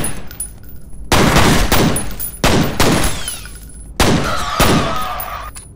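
Loud pistol shots from the first-person shooter F.E.A.R., four sharp blasts spaced about a second apart, each followed by a brief ringing decay, close and dominant with no talk over them.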